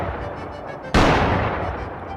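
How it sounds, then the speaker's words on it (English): Gunfire in the zombie survival game Project Zomboid: one loud, sudden shot or blast lands about a second in over a background hum, then decays into a long rumbling tail. "the gunfire is getting closer"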